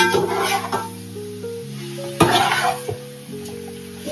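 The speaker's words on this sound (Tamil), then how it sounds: "நல்லா ஒரு 10 மினிட்ஸ்க்கு நல்லா வதங்கணும். கொஞ்சம் லைட் ப்ரௌன் வர வரைக்கும் வதங்கணும்." Sautéing in a pan for chicken biryani, with soft sizzling and several stirring scrapes up close, while steady tonal hum layers run underneath throughout.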